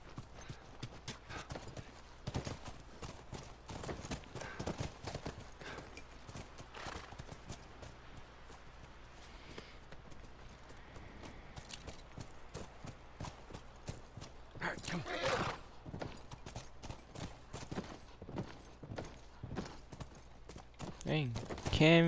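Steady clip-clop of horse hooves at a trotting rhythm in the video game The Last of Us Remastered, continuing throughout under occasional speech, with a whinny or rustling bursts near the end.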